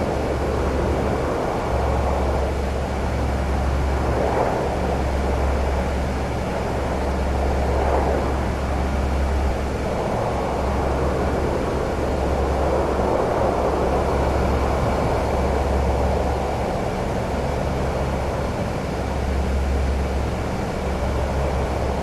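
Steady, droning four-engine turboprop hum of a C-130 Hercules in the DCS World flight simulator, a constant low rumble with gentle swells throughout and no voices.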